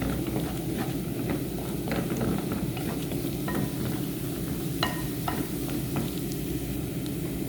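Crushed garlic sizzles steadily in hot, slightly browned butter while a utensil stirs through it, with scattered scraping clicks and crackles over a constant frying hiss.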